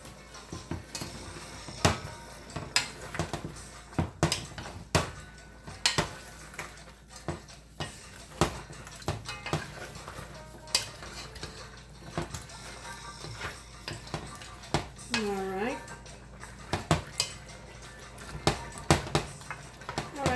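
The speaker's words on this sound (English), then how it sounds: "let me give it a stir" Caribbean stewed turkey being stirred in a cooking pot, the meat sitting in its own liquid; scattered clinks and scrapes of a utensil against the pot come in irregular bursts, close and fairly quiet, with no talk.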